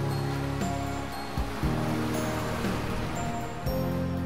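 Gentle waves wash onto a sheltered beach in a small cove at Banana Beach on Coral Island, Thailand, making a steady soft surf with a low hum beneath, and no voices.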